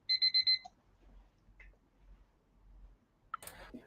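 A debate timer alarm gives four quick loud electronic beeps right at the start. Low murmuring and a short burst of noise follow.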